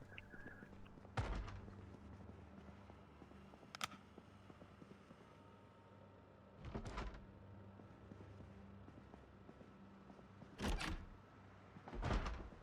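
Zombies in the game Project Zomboid bang on a door: a few heavy, irregularly spaced thuds several seconds apart over a quiet, low background hum.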